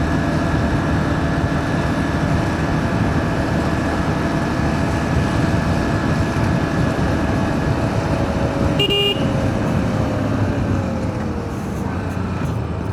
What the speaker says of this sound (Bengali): পিছন থেকে হুদাই হর্ন মারতেছে।